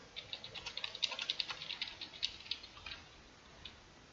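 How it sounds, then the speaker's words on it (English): Rapid, faint clicking of a computer keyboard being typed on during a Minecraft session, in light irregular bursts that thin out toward the end. "Let me just type in here."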